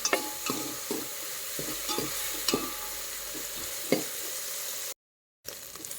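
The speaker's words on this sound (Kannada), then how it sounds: "ನೋಡ್ತಾ ಇರ್ಬೋದು, ಈ ರೀತಿ ಫ್ರೈ ಮಾಡ್ಕೋಬೇಕು." Spices fry in a pan for a mango sambar, a close, continuous crackling sizzle broken by regular spatula scrapes and taps, with a brief dropout near the end.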